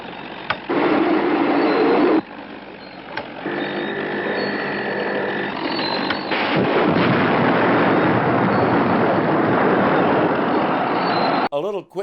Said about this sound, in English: Activate the Hornet mortar.